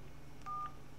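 A single short phone keypad DTMF tone from entering a voicemail password, faint and brief over a quiet room hum, with no talking.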